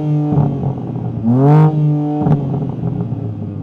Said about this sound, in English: there's no soft limiter, so you can rev the engine all the way up when you're stationary.